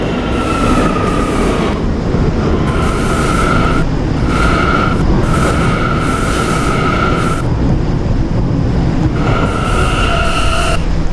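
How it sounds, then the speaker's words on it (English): A New York subway train at Herald Square station rumbles loudly and continuously, with recurring high squeals and tonal whines from wheels and motors through the whole stretch. "This is a 4647th Street LaGuardia Airport bound K train."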